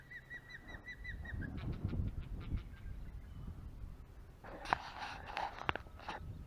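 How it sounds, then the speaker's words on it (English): A bird at Don Pedro Lake honks repeatedly while trying to take a freshly caught fish from a net, bursts of goose-like calls mixed with splashing and handling noise, fairly close. "This bird is after my fish."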